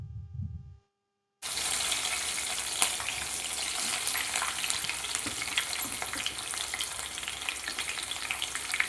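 Green chilies and chopped onion frying in oil for carrot rice, with a loud, steady close sizzle and crackle that starts abruptly after a brief quiet gap, plus occasional pops.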